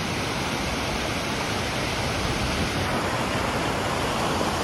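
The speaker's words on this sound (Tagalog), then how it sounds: "Dito nang gagaling yung tubig ng falls" Inglis Falls near Toronto roars as a steady, dense wash of falling water, loud and unbroken for the whole stretch with no voices.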